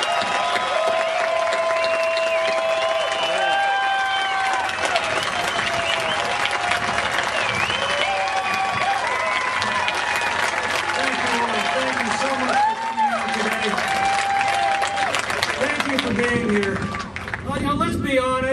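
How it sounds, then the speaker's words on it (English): Outdoor political tea party rally crowd applauds and cheers for Congressman Tom McClintock: loud continuous clapping mixed with shouts, whoops and whistles, with voices calling out over the din for the whole stretch. "Big round of applause,"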